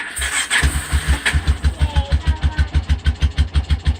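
A four-wheeler ATV engine cranks and catches on choke, then settles into a close, loud, rapid idle that putters in an even rhythm.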